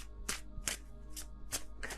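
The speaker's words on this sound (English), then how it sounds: "I can shuffle this deck" A deck of tarot cards is shuffled in five quick, crisp riffling bursts at an even pace, close and clear over a steady low hum, with no voices.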